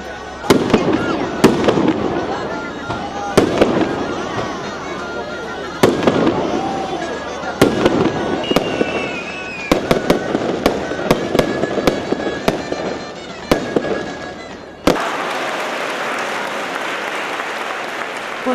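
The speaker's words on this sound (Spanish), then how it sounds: "Tampoco faltó la habitual hoguera y los fuegos artificiales." Fireworks at a Spanish patron-saint festival honouring the Virgen de la Antigua, with a bonfire, go off in loud, sharp bangs spaced a second or two apart, ending in a sustained crackling burst. A voice speaks between the blasts.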